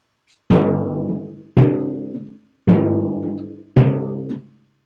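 Four deep timpani strokes, evenly spaced, each one ringing briefly and then damped short before the next hit.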